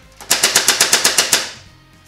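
A 1999 NERF Airjet Power Wildfire air-powered blaster fires a rapid burst of about ten sharp pops in quick, even succession, close and loud, then a short fading hiss as the air runs out.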